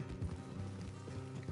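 Horse hooves clip-clopping in Red Dead Redemption 2, a close, rhythmic run of hoof falls over low rumbling ambience, with no talking.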